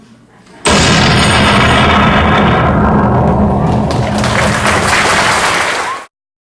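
Cannon fire sound effect in a high school stage play, one loud booming blast that cuts in abruptly, rumbles heavily for several seconds and then stops dead into silence.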